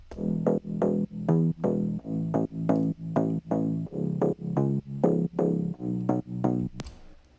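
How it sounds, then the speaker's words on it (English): Plucky slap house synth bass patch built in Serum plays a steady bouncing pattern of short punchy notes, each with a bright attack and quick decay, repeated evenly without any voice. "So I'm using Serum to make the basses."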